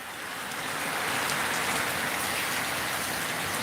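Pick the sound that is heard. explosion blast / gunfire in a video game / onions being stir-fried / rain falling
rain falling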